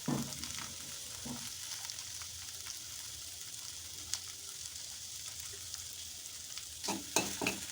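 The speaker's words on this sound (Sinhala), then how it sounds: "ඊළඟට මේ වගේ මැදි බිත්තරයක් දාගන්නවා මම." An egg fries in a pan for a quick kottu, giving a steady soft sizzle with light crackles and a few scraping stirs near the end, with no voices.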